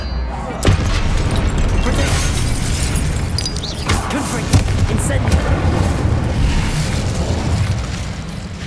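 Spell combat in Hogwarts Legacy, the Incendio fire spell bursting amid a dense, loud stream of magical impacts and booms, with sharper hits near one and four and a half seconds.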